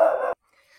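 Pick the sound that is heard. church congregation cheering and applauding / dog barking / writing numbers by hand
dog barking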